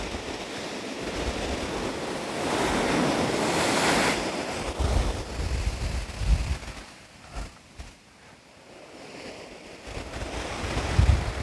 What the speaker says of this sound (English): Few big waves.